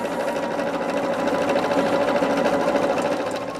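A sewing machine stitches a quarter-inch seam in cotton quilt fabric, giving a close, steady, continuous mechanical whir that runs throughout with no talking.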